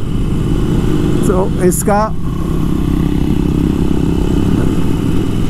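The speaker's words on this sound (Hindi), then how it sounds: "अब 1200 सीसी की बाइक आ गई है" A Harley Davidson 1200 Custom motorcycle, a 1200 cc bike, idles with a steady low engine rumble throughout, while someone speaks briefly over it near the start.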